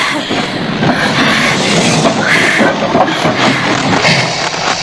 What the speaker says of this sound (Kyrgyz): Останови поезд, сынок!